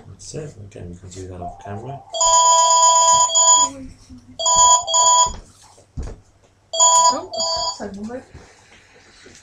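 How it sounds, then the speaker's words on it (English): An electronic phone ring sounds in three bright bursts separated by short gaps, loud and close, while people talk before and between the rings. "That's the phone."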